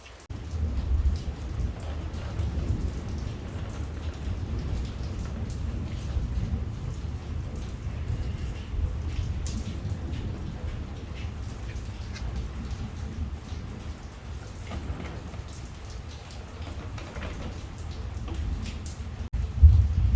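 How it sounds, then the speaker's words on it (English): Steady rain pours down outdoors with occasional low rumbles of thunder, a continuous even hiss over a deep background roar during metal work on a Subaru Brat being fitted over an S10 frame, with no voices. "Why is it raining every time I do this?"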